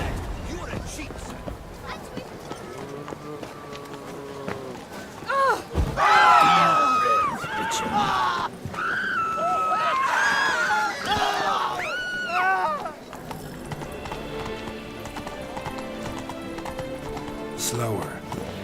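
Horse galloping in The Witcher 3, steady clip-clop hoofbeats running throughout with occasional whinnies, layered under game music, crowd noise and spoken dialogue.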